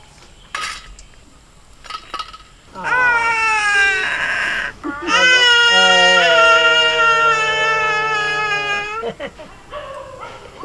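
A small baby vocalizes in long, sustained, tonal wails that sound like crying or sing-song, loud and close, with two extended bursts separated by a short break and some clattering before and after.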